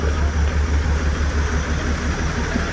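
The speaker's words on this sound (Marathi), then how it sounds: "तर ही अशी टॉय ट्रेन आहे बघा" Matheran toy train standing at Matheran station, giving off a steady, loud low-frequency engine rumble like idling, continuous throughout with no pauses.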